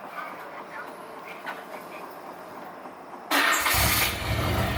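A Tommi Makinen Evo VI is cranked over and its engine catches at about three seconds, settling into a loud, steady idle close by. Before it starts there is only quiet ambient noise.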